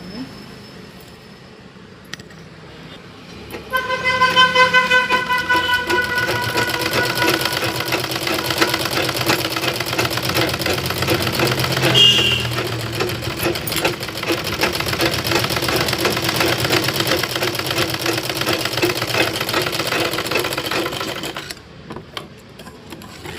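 Sewing machine stitching a cut blouse piece, a steady dense mechanical whir running continuously for about twenty seconds at close range, with faint speech underneath.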